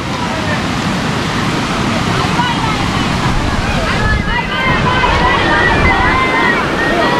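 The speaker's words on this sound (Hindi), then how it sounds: "तो ये है वाटरफॉल एरिया" A small waterfall on a motorcycle ride makes a loud, continuous rush of water, heard steadily throughout and mixed with wind noise.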